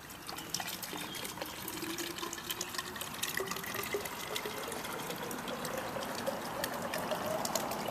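Water trickles and pours into a homemade container, a close, quiet, steady dribble with small splashes and gurgles that rise slightly as it fills.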